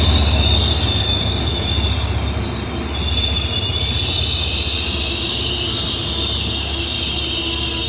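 A Hitachi diesel locomotive, number 4522, hauls an express sleeper train through a station, with a loud, steady rumble, clattering wheels and high wheel squeal running the whole time.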